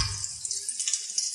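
Chicken stock trickles from a container into a baking dish holding skin-side-up turkey breast, a light continuous splash and patter with small drip accents, close and fairly quiet.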